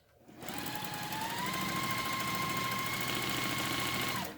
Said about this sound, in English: So I'm going to go ahead and stitch a 1/4 inch.